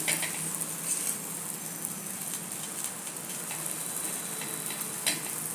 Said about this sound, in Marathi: दुसरी बाजू परतून घेऊया